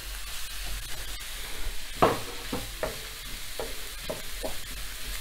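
Chopped bell pepper sautés in a hot pan with a steady, soft sizzle and a few louder stirring scrapes and clinks spaced across the clip. No voice is heard.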